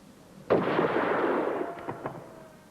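A single loud gunshot cracks out during shooting training, and its rolling report rumbles and decays for about two seconds. A few faint pops follow near the end.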